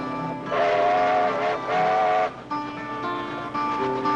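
A steam train sounds its whistle in two sustained blasts followed by shorter tones, carrying over a low rail rumble, moderately loud but with a distant quality.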